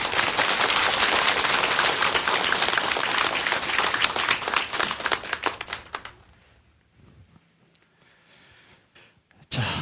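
A studio audience breaks into dense, loud applause to welcome a televised health lecture; the clapping holds for about six seconds, then thins and fades away to near quiet.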